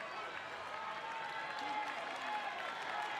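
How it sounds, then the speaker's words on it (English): Fans at a girls' 3200 meter state championship track race cheer and applaud a leader on the final lap, a steady distant crowd roar with scattered clapping and an announcer's voice over it. "getting a cheer from the fans"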